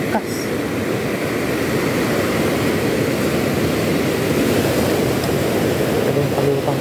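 Strong sea waves at a shoreline fishing spot make a loud, continuous, heavy roar that fills the whole stretch with no let-up.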